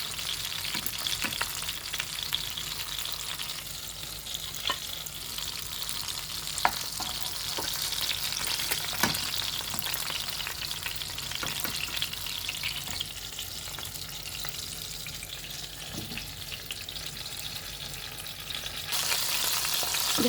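Rabbit fish fries in hot oil, a steady close crackling sizzle with scattered pops, running continuously and brightening slightly toward the end.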